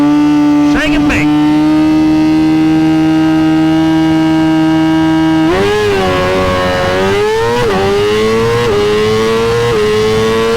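A small drag-racing motorcycle makes a pass, a loud, close, steady engine note that climbs in pitch through several gear shifts, with brief voices at the start.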